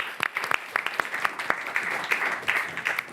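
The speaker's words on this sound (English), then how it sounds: "So let's give Gonzalo one more round of applause." Applause from an audience at a city announcement event about new AP courses, a dense clatter of clapping with sharp individual claps standing out, steady and moderately loud for a few seconds.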